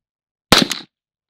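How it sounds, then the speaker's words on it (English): A Kel Tec CMR30 rifle fires a quick, close burst of two or three sharp shots that cut off abruptly, leaving silence before and after. "let's see if we can get a little fast shots"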